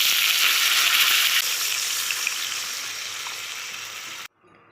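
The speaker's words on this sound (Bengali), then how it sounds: "ভেজে রাখা মাছগুলো এবারে দিয়ে দেবো।" Pieces of fried rohu fish dropped into a hot pan of oil and spices, a loud, dense sizzle that slowly eases before cutting off, close and without talk.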